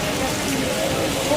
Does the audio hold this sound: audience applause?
no